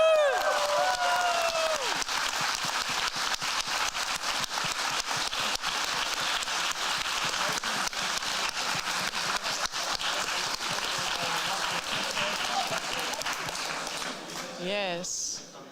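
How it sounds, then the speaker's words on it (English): Sustained, dense applause fills the room at the closing ceremony of the BAPC 2022 programming contest, a steady roar of clapping with a few voices early on, before it fades out at the end. "Can we get another big applause for Sekveld Go?"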